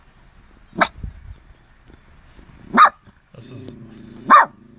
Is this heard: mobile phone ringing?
no